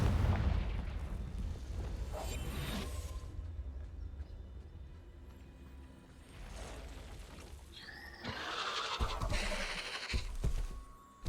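An explosive Confringo spell blast in the Hogwarts Legacy video game goes off among other loud, rumbling in-game combat effects, with a burst of bright impact noise late in the stretch.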